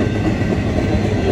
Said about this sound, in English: Accelerating pretty good right now to get out of the way for this eastbound.